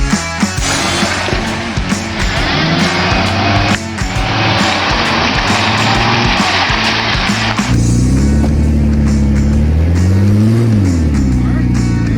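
A Ford Freestyle engine revs in neutral, its rising and falling pitch swelling loudly in the second half over a dense bed of music and talking voices.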